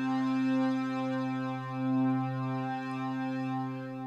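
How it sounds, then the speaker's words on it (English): A KHS One software synthesizer's sub oscillator plays a steady, sustained low bass tone with stacked harmonics, droning continuously with slight swells and no voices. "this is the sub, so you get a bit of bass"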